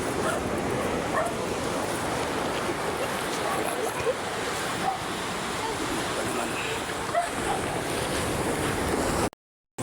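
Steady roar of calm sea waves washing on a shore at Mercedes, loud and continuous with wind noise, ending in a sudden cut to silence.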